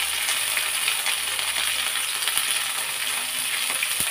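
Onion, ginger, green chili, cumin and garlic pastes fry in oil for a mutton curry, a steady close sizzle with faint stirring and clinks of a utensil against the pan.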